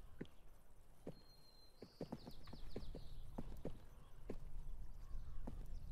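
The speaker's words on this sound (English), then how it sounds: "I kind of got my horse stuck." Horse hooves clopping in the video game 1428: Shadows over Silesia, a run of close, sharp hoof knocks in an uneven rhythm, with a brief whinny-like tone early on.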